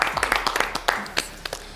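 Scattered claps from a studio audience during a television entertainment show, irregular and fairly close, mixed with a voice speaking over them.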